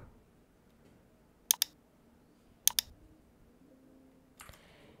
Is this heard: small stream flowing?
no